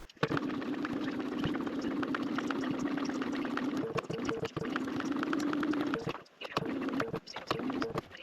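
A domestic sewing machine stitches a backpack's back support panel, running in a steady continuous whirr for most of the stretch with a couple of brief pauses near the end, close and loud.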